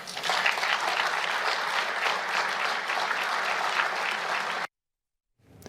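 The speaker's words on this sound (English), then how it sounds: "everybody started clapping like Alex Thompson was so brave" Audience applause at a media-themed event, a sustained dense crowd clapping for nearly five seconds that cuts off abruptly into silence.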